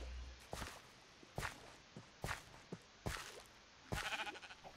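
Sheep in the video game Minecraft bleat in short, sharp bursts, about five of them at a steady pace, set against soft footstep-like sounds and a quiet background.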